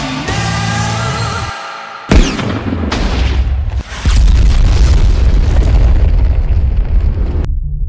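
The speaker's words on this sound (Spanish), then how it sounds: "A pocos segundos de que la bomba explote" A bomb goes off in a Sonic animation: a sharp blast after a brief tonal lead-in, followed by a loud sustained roaring rumble that fills several seconds before cutting out abruptly.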